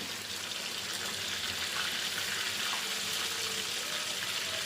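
Frozen fish frying in oil over a low flame, giving a steady, even hiss of sizzling that holds at the same level throughout, close by and without talk.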